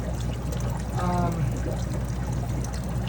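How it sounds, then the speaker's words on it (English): Gravity-fed water pours steadily into a fish tank in an indoor fish room, a continuous loud trickling stream under a constant background hum. "you can see the water flowing into this tank"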